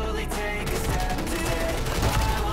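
Dense gunfire in Modern Warfare 3 during a Gunfight match on Training Facility: a steady, close burst of rapid automatic shots rattling without a break through the whole stretch.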